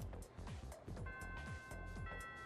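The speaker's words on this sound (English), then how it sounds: "Oh, bell rang." School bell in the Persona 3 Reload video game: a sustained electronic ringing tone that starts partway through, layered over busy music with rhythmic beats.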